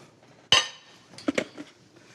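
Raw shrimp dropped into a bowl while a grilled shrimp dish is prepared with pesto: one sharp clattering knock, then a couple of quick light clinks close by, with no talking.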